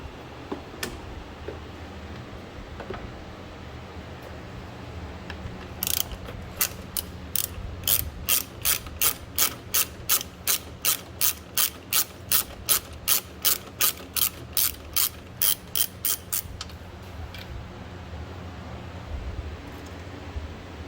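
A socket ratchet clicks rapidly and evenly at close range, a long run of sharp regular ticks, as a headlight bolt on a 2014 Mazda 3 is loosened. Quiet shop ambience surrounds it.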